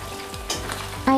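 A sugar and seasoning mixture stirred in a hot pan with oil, sizzling and frying throughout with scraping stir strokes and a sharp metallic clink near the end, close and fairly loud.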